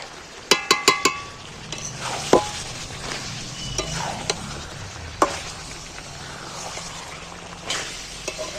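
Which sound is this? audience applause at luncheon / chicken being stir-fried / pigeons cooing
chicken being stir-fried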